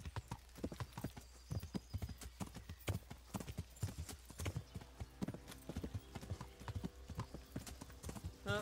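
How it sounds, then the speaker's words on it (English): Horse hooves clip-clop steadily in the medieval role-playing game Kingdom Come: Deliverance, a brisk repeated rhythm of hoof strikes throughout, with a brief whinny and faint game ambience behind. "Oh, there's his horse."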